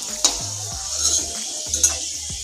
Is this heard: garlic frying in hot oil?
yes